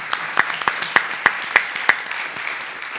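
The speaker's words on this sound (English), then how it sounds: "Let's give them a round of applause." Applause at a school district board meeting, a modest group clapping with a handful of sharp, distinct claps standing out over a softer patter, fading slightly toward the end.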